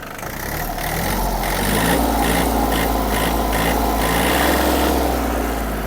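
A Yanmar RS-240 mini tractor engine idles in eco mode with a steady, close diesel chugging and a faint rhythmic knock, alone without talk.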